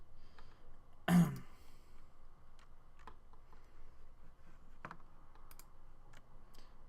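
A few sparse, quiet clicks of a computer mouse during Photoshop editing sit over a faint room hush, with one louder bump near the start.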